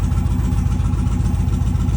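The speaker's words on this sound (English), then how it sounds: "I noticed it idling kind of funny. So as you can hear, it kind of sounds like it's on one cylinder" Indian motorcycle engine idling roughly, as if running on one cylinder after a cam tune, with an uneven, lumpy low pulsing beat that is steady and close with no talk.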